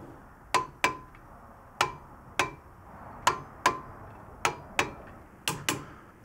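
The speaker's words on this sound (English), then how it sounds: "these guys get torqued down to 81 foot-pounds" A torque wrench tightens the caliper bracket bolts on a 2009 GMC Canyon truck's front brakes, giving ten sharp, moderately faint clicks in irregular pairs with short pauses between them, and no voice.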